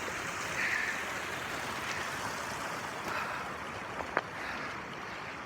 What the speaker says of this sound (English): Now we're walking through a creek.